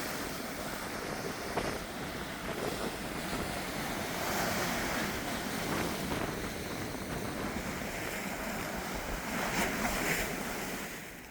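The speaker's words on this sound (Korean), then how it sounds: "파도는 방파제 종류에 따라 파도 소리가 달라집니다." Ocean waves wash against the East Sea coast beside a breakwater on a spring trekking route, a steady rolling surf with periodic swells and wind noise, no voices.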